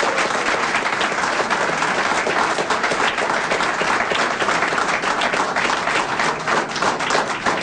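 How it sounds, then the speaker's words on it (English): A crowd at an election night primary speech breaks into sustained applause, dense, even clapping that holds steady at full strength throughout with no talk over it. "Would you please give them a round of applause?"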